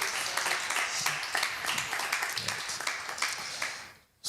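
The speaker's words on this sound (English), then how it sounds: "Please give a round of applause for Latoya" An audience claps for a speaker at a self-employment talk, a dense, continuous patter of many hands at moderate loudness that lasts about four seconds, then stops abruptly.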